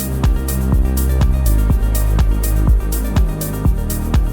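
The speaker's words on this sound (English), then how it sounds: "So in this example, I've got a melodic house track, sounds like this." A melodic house track plays with a steady four-on-the-floor kick, deep sustained bass and bright layered synths, loud and continuous with no voices.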